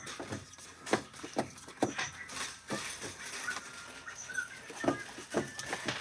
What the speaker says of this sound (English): Avery, what is it he's barking at?